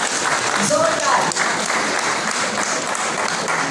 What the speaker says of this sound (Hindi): आप सबके लिए एक बार जोरदार तालियां